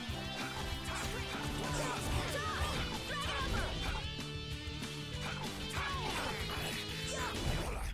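Heavy hammer smash attacks from the Powhammer in Tales of Vesperia land in a dense, loud run of crashing hits over a constant bed of battle music and effects, with no voices in between.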